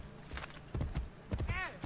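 Horse hooves in Assassin's Creed Brotherhood clip-clop faintly in a short irregular run of soft thuds under game ambience, with a brief whistling tone near the end.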